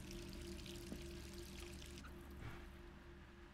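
Steady running water from a shower in the video game Resident Evil 3, a faint continuous pouring hiss with a low hum beneath, unbroken throughout.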